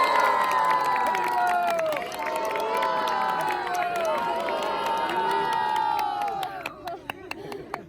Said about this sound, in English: Indra Dave, give him a big round of applause